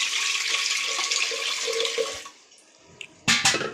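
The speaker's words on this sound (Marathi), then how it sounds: "आता पाणी टाकून घेते" Water pours steadily into a cooking pot of washed dal with a bright splashing rush for about two seconds, then trickles off, followed by a couple of clanking taps.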